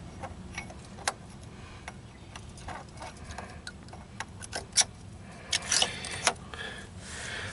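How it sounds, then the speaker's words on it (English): A carburetor slid back onto an EZGO Workhorse golf cart engine during reassembly after a cleaning, heard as scattered close metallic clicks, taps and light rattles, with a brief cluster of louder knocks near the end and no talking. "Slide the carburetor on."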